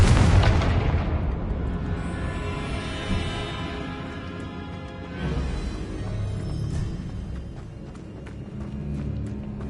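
A Confringo spell explosion in the video game Hogwarts Legacy lands as a loud, deep boom, then rumbles and crackles away, with a second blast swelling midway and a lingering debris rattle.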